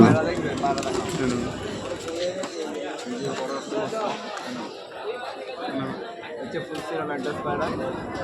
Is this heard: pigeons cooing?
yes